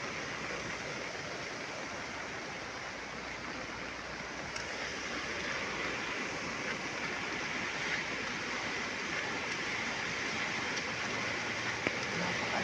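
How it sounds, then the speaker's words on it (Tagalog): Rainwater rushes hard through a roadside canal during a downpour, a steady, dense broadband roar that holds unbroken and fairly close throughout, with no voices. "lakas ng lagas-las sa kanal."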